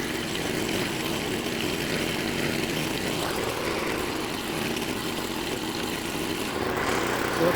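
A tiller churns soil in a pumpkin patch, its engine a steady, rough drone that holds throughout at moderate distance with no pauses.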